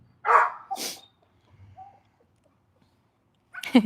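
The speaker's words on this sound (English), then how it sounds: "even though he's barking, his tail is wagging" A dog barks in a few short, close bursts separated by quiet gaps, with a fainter whine partway through, while its tail wags and it does a play bow.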